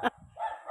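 A few sharp dog barks from neighborhood dogs outside a house, a quick bark followed by a couple of softer yelps, close and brief.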